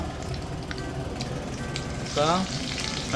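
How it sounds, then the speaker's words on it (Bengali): Black mustard seeds frying in hot oil for a South Indian sambar tempering, giving a steady close sizzle with scattered crackles and pops throughout, with a brief murmur of voice near the end. "সর্ষেটা মোটামুটি ক্র্যাকেল হয়ে যাক।"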